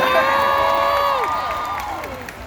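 Crowd of an audience cheering and whooping at a BeautyCon LA interview stage event, loud sustained shouts with high pitched voices rising and falling over continuous noise, fading slightly toward the end.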